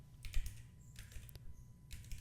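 Short bursts of typing on a computer keyboard, three quick clusters of light keystrokes at close range over a low steady background hum, with no talking.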